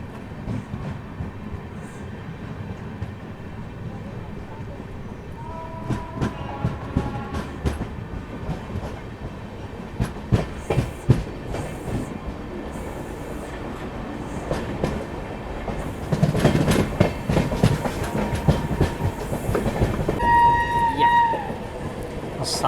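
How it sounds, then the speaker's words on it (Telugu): The 17645 Secunderabad–Repalle Express passenger train departs a station, its wagons rumbling and clattering with rising clickety-clack while horn and whistle tones sound at intervals amid platform noise and occasional voices. "సో మన ట్రైన్ అయితే డిపార్ట్ అవ్వడానికి రెడీగా ఉంది."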